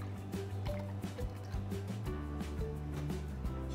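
Thick drinking yogurt glugs and pours into a sake cocktail in a glass, a close, soft liquid gurgle with a few splashy surges and no speech.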